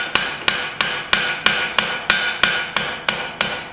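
A hammer strikes hot scrap steel to set short, steep bevels in a knife blade, twelve loud, close, evenly spaced ringing blows about a third of a second apart, with no talking.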